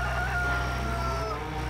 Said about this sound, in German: So, wir haben freilaufende Hühner.